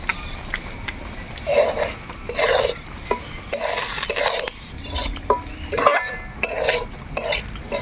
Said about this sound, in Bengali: আমরা সুজিগুলো হালকা করে ভাজি নেই